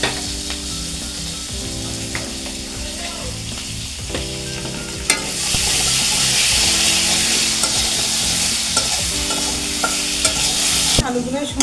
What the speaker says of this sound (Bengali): আলুগুলো ভেজে নেব। আলুগুলো সুন্দর করে একটু লবণ দিয়ে দেবো।